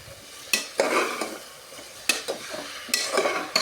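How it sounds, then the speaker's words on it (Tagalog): Chicken adobo is stirred and sautéed in a pan, the sizzle broken by a few sharp utensil scrapes and clanks against the metal, close and fairly loud with no talk. "Gisahin lang natin itong mga day."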